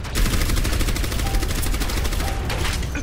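Dense automatic gunfire in the video game Overwatch, a loud continuous rattle of rapid shots close up for the whole stretch.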